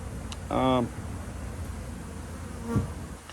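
Honeybees from someone else's hives buzz around dry wax cappings and sticky comb left outdoors, a soft drone beneath a brief louder pass of a bee near the microphone, with a faint voice later.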